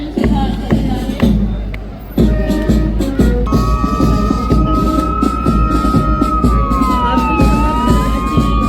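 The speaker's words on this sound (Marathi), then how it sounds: "अग्निशमन दलाची गाडी आता आपल्या समोरून जात आहे." A fire engine siren wails through a Republic Day parade in Jalgaon, rising and falling loudly as the truck passes close, with crowd noise and an announcer's voice mixed in.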